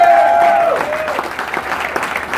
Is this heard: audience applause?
yes